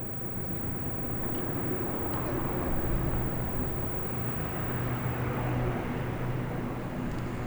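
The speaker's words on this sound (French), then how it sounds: "Nous avons entendu les avions de chasse passer." Jet aircraft roar near Futenma base in Okinawa, a steady broad rumble that holds through the whole stretch and swells slightly midway, like fighters passing overhead, with no voices.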